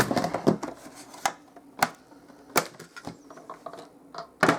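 A die-cutting machine cuts an accordion pop-up card with a butterfly design in a single pass, giving off a run of sharp, irregular clacks and ticks, close and crisp, with quieter rattles between them.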